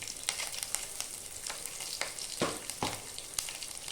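Garlic, ginger and dried red chilli sizzle in hot oil in a pan over a lowered flame, a steady crackling fry broken by a few sharper pops and scrapes, close and with no voices.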